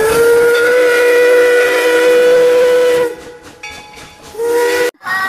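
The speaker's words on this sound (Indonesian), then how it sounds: "Kereta apinya mengelilingi tumpukan mainan" Toy train steam whistle blowing a loud, steady hissing tone for about three seconds, breaking off, then sounding again briefly before cutting out.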